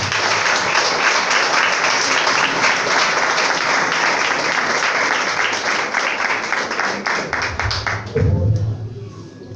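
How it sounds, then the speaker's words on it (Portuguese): A church congregation applauds loudly and steadily for several seconds, the clapping thinning out near the end as voices come through. "as palmas em nome do Senhor"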